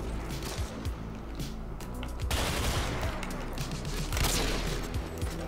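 Gunfire in Modern Warfare 2 (IW4X) on PC, scattered sharp shots and short bursts mixed with other game noise, fairly faint and uneven through the clip.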